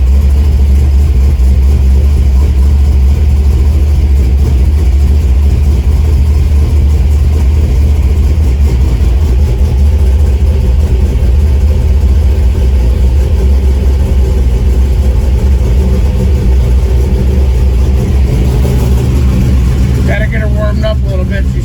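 A 1971 Chevrolet El Camino Super Sport, set up for nitrous, idles cold after startup with a loud, steady, low engine rumble throughout, and a person talks over it.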